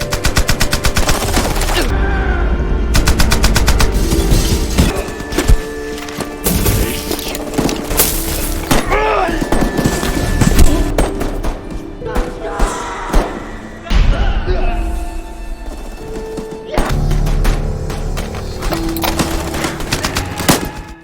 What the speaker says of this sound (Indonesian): Unit tank mereka menembak dengan sangat ganas.